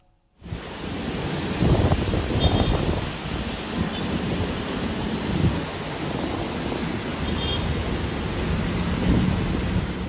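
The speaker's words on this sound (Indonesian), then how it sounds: "Dari rekaman video amatir, tiupan angin bahkan membuat debu-debu berterbangan dan pohon bergerak kencang." Strong wind roars steadily in an outdoor Jakarta scene, a loud continuous rushing blast with gusting surges and buffeting, no voices.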